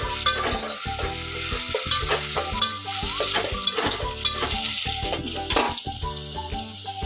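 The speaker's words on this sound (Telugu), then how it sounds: "ఆనియన్స్ మగ్గే వరకు కొంచెం ఫ్రై చేసుకోండి." Onions frying in a pan for egg pulusu hiss and crackle steadily, with repeated stirring strokes close by and a tonal background underneath.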